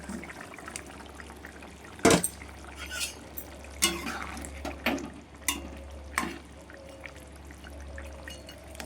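Catfish pieces slipping into a pot of boiling thin curry broth, a few distinct splashy plops and pours with a faint bubbling simmer underneath, no talking.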